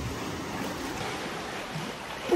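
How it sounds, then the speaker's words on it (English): Ocean waves at a bay as the tide comes in, heard as a steady, broad wash of surf and water noise throughout, fairly close and without speech. "them waves are getting quite big now"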